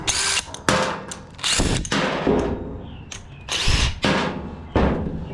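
Power tool, likely an impact driver or drill, backing bolts out of a John Deere L130 mower deck during a rebuild: repeated loud bursts of whirring and rattling, each a second or so long, separated by brief pauses, close by.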